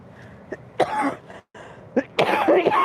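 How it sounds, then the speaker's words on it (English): Several harsh coughs from a sick person, close to the microphone in uneven bursts, with short breaths and pauses between them. "Now I'm coughing."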